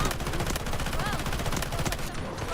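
Rapid bursts of gunfire in the video game Delta Force fill the whole moment, dense and continuous, with a faint voice underneath.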